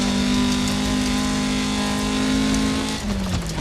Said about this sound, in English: Listen to that 4-cylinder engine just